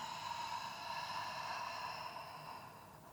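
A single slow, soft breath drawn in during a mobility exercise, a faint airy hiss that fades gradually, with no talking.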